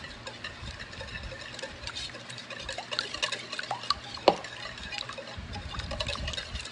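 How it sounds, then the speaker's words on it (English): Clafoutis batter mixed in a bowl, giving soft continuous wet scraping and sloshing with faint clinks of the utensil against the bowl, fairly quiet and close. "so just mixing this up"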